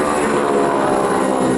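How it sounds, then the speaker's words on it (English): Vintage aircraft with a 600-horsepower direct-drive Pratt & Whitney R1340 radial engine and two-bladed propeller at an airshow, a loud, steady, close engine roar with a raspy propeller buzz and no break. "600 horsepower, direct drive, Pratt & Whitney radial engine, an R1340. 2-bladed prop. And that's the reason that the aircraft makes the noise on takeoff."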